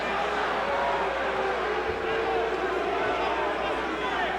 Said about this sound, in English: Crowd beginning to get restless.